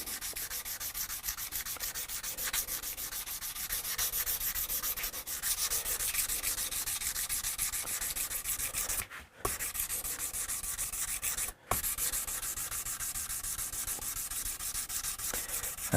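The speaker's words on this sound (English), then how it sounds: "Yes, Brendan, it is a fiberglass pen." A fiberglass pen rubs steadily over the frets of a Hofner Galaxie guitar during restoration, a continuous close, dry scratching hiss broken by two brief pauses.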